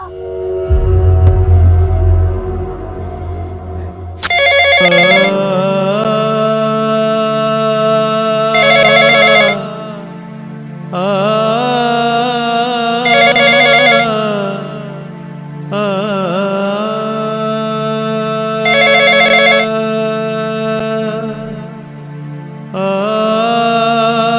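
During an outgoing phone call that goes unanswered, a loud ringtone melody repeats in regular phrases for about twenty seconds, with no talk over it.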